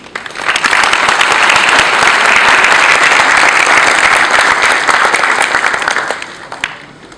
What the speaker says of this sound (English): I think this togetherness deserves a big round of applause.